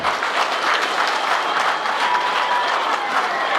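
A gathered crowd at a community thanksgiving event for young men in Mondlo claps together in sustained, dense applause that holds evenly throughout, fairly loud and with no talking.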